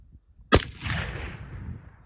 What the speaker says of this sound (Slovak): A teraz si vyskúšame prietokový tlmič ASE Ultra 762 Compact na puške Ruger S-Far v 308 Winchester.